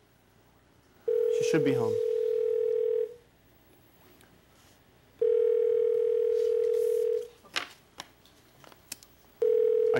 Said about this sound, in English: Can we call up my mom?